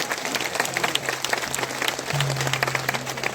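A large crowd claps loudly and steadily at a Chhattisgarh political rally for Chief Minister Bhupesh Baghel in Farsabahar, Jashpur, a dense, sustained burst of applause filling the whole moment.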